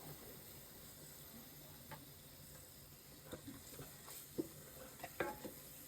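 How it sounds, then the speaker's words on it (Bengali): Ginger and garlic paste stirred in an oiled pan for yakhni biryani, a faint, soft sizzle broken by intermittent scraping clicks of a spoon that grow more frequent toward the end. "সুন্দর করে আমরা নেড়ে নিচ্ছি।"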